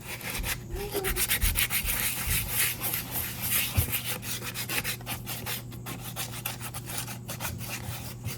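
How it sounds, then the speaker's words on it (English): Steady back-and-forth rubbing of fine sandpaper on a wooden spoon, close up, in quick rhythmic strokes with a low hum underneath. "So I'm just sanding this down a little bit."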